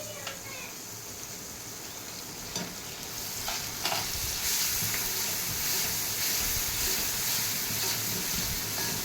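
Oil sizzles and fries steadily in a pan while the tempering for buttermilk kadhi is prepared, with garlic and green chillies in it. The crackle is close and continuous, with occasional stirring scrapes, and a voice is heard faintly.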